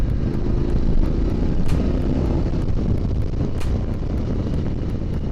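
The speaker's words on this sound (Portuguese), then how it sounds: "Quinta às 3000 rotações, vou acelerar um bocadinho." A Kove 800X motorcycle engine pulling in fifth gear at about 3000 rpm, a steady low drone with constant wind rush over the microphone, continuous and fairly loud with no talking.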